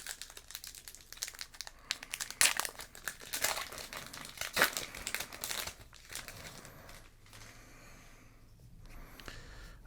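A booster pack wrapper from The Brothers' War trading card set is torn open, giving dense crinkling and crackling foil rustles that peak in the first half and then ease off to quieter handling.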